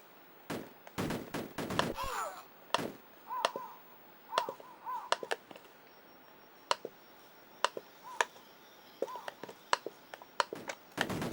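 Gunfire and explosions in the Amiga game Cannon Fodder, heard as sharp clicky shots in scattered bursts with a few heavier blasts. A person talks between and over the shots.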